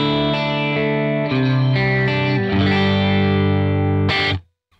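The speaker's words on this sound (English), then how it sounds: "That's done an amazing job of capturing the amp." Overdriven electric guitar played through an IK Multimedia Tone X capture of a Matchless amp, a few strummed chords sustaining richly before a final scraped strum and abrupt stop.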